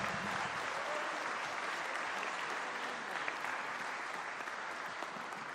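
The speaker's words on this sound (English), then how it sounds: "Let's give her a rounds of applause as she comes" Sustained applause from a graduation audience at Queen's Royal College as the mistress of ceremony, a teacher there, comes forward; steady dense clapping throughout with no speech.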